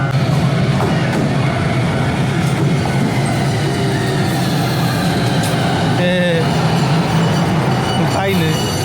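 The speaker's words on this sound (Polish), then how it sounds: "Jedzie koci pociąg." A cat-themed train in Tokyo rolls past close by with a loud, continuous rumble, rattling wheels and brief metallic squeals, while people talk nearby.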